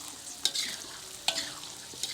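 Shallots frying in oil for sambal goreng, cooked outdoors in a garden, give a soft steady sizzle with a few sharper stirring scrapes and spatters at intervals.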